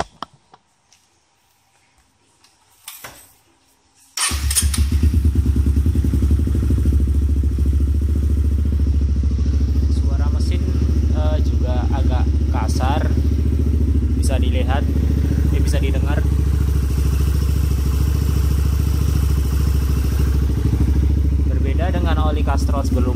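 A Honda CBR motorcycle with a DOHC engine, running on cheap oil, starts after a few quiet knocks and then idles steadily and loudly close by, with faint ticking clatter over the engine hum.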